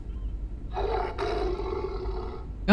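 A creature in Starfield lets out a sustained, rumbling roar lasting about two seconds, loud and close, then breaks off into a short sharp sound.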